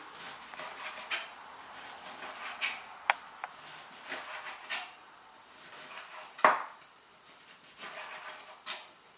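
A knife chops the last of a lemon on a board while preparing gravlax, giving sparse, irregular taps and clacks of metal and wood, near and fairly quiet, with a sharper knock partway through.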